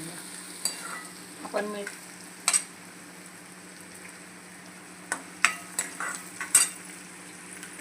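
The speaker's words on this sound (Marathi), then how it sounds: "लाल होईपर्यंत मस्त असं शिजवून घ्यायचं. छान असं ब्राऊन होऊन द्यायचं कांदा." Onions frying in a kadhai for dhaba-style Punjabi kadahi chicken, stirred now and then, giving a low steady sizzle with sharp scraping clinks of the spoon against the pan, under a brief spoken word.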